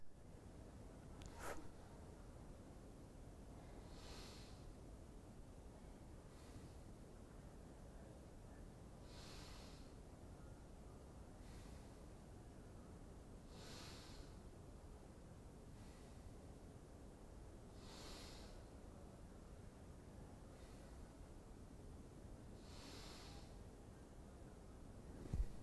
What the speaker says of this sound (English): Now practice gasping and puffing through your nose with your mouth closed.